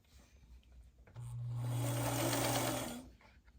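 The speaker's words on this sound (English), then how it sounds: "now I'm just going to sew this side to here using a 1/4 inch seam allowance" A sewing machine runs for about two seconds, stitching a quarter-inch seam on a quilt block, with a close, steady motor hum that starts and stops abruptly, surrounded by quiet handling noise.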